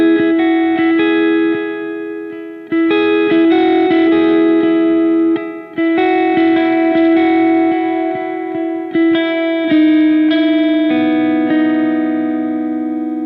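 Electric guitar chorus section of a song played through an effects unit with chorus, reverb and echo: bright, sustained chords and ringing hybrid-picked notes, loud and continuous with short breaks between phrases.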